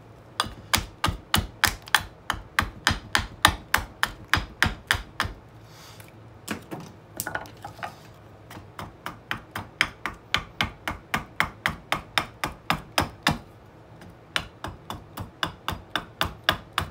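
An axe chops rhythmically into wood while roughing out a carved spoon, a long run of sharp, evenly spaced blows at close range, with a short pause midway before the steady chopping resumes.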